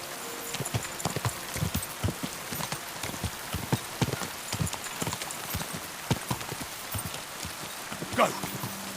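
Horse hooves clip-clop irregularly in the video game Kingdom Come: Deliverance II, over a steady hiss like falling rain, with a brief voice cutting in near the end.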